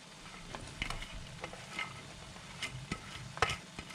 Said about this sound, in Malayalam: ഈ മസാല നല്ല സൂപ്പറായിട്ട് നന്നായിട്ട് വെന്ത് മുരിഞ്ഞ് വരുന്നുണ്ട്